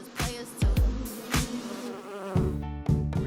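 Bees buzz around a Lego beehive, a steady insect hum broken by louder passes as individual bees fly close by the listener.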